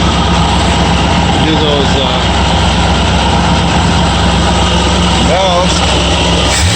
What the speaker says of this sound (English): Accelerates really good. Comes right down to good idle.